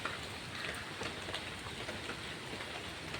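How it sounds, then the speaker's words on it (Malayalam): Heavy monsoon rain pours steadily over a waterlogged courtyard, a dense continuous hiss with scattered droplet patter, no voices. "3 ദിവസമായിട്ട് ഇവിടെ മഴ തോർന്നതേ അല്ല."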